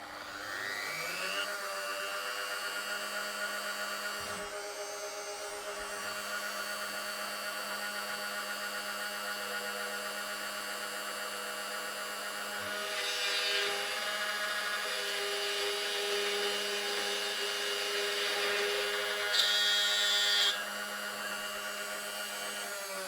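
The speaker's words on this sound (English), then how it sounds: "I'm just going to simply turn the router on and drill a wee hole there." CNC router spinning up and drilling a small hole in stock, a steady high motor whine running continuously with brief swells as the cutter bites, moderately loud and heard alone.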